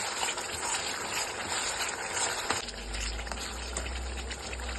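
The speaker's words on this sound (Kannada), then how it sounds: "ನೋಡಿ, ಕುದೀತಾ ಇದೆ ಗೊಜ್ಜು." Tamarind gojju for puliogare bubbles in a pan, a close, steady simmering burble with soft pops, joined midway by a deeper low rumble, no speech.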